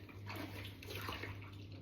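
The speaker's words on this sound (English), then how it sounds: "I have got the dog's water bowl from outside to wash" Water runs steadily into a sink while dishes are washed, a continuous soft splashing rush with faint clinks and no voices.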